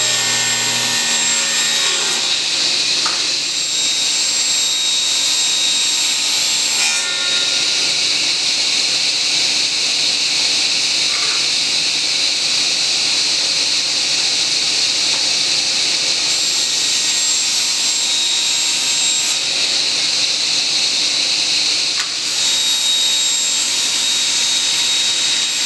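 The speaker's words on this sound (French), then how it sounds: "ça commence par le débit du contreplaqué à la scie circulaire." A loud, sustained high-pitched whine of a circular saw running steadily through a long cut in plywood, with slight shifts in pitch as the blade works, no voices.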